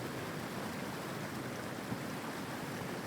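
A waterfall in The Infected video game gives off a steady, even broadband rush at low level, unbroken throughout with no voices.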